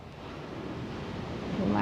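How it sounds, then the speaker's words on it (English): Soft ocean surf washes in as a steady, broad rush of waves, swelling slightly louder toward the end, heard alone beneath a calm yoga relaxation session. "You might even be able to hear the wave of the ocean."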